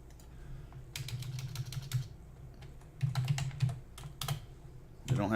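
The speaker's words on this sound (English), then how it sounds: "any way to fix my terrible typing" Typing on a computer keyboard in rapid bursts of close clicking keystrokes, separated by short pauses, with a low hum running underneath.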